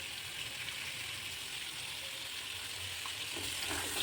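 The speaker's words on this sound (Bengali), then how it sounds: "আমি তুলে রেখে দিয়ে এবার আলুগুলো দিয়ে দিলাম তেলেতে" Potato pieces fry in hot oil, giving a faint, continuous sizzle and crackle that is steady throughout, with no talk.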